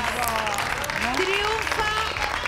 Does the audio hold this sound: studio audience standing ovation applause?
yes